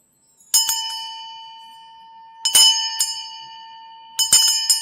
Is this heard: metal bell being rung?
yes